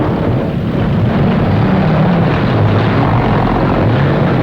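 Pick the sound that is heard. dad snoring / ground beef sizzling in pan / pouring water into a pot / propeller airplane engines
propeller airplane engines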